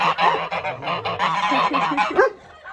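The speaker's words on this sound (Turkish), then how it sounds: "Kazlar." Several geese honk loudly and continuously nearby, their overlapping calls forming a noisy chorus that tapers off at the end.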